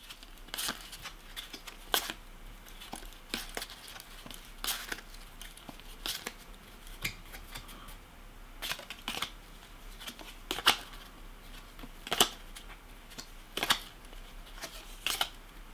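Trading cards being drawn and shuffled for a Magic: The Gathering knock-off game, close, crisp riffles and snaps scattered in irregular bursts over a quiet background.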